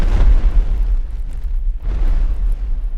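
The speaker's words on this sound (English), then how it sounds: "So all three of you now, you all hear this explosion." Two deep, rumbling explosion booms from a detonator-triggered blast at a tower, used as a sound effect in a sci-fi tabletop roleplaying podcast, loud and close with a long roaring decay.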